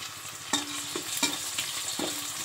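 Garlic and tomato sauté in a pan for Kerala-style chicken curry, a steady sizzle broken by three sharp spoon scrapes against the pan, close and continuous without talk.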